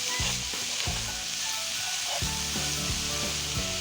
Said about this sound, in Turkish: Şimdi tekrar karıştırıyorum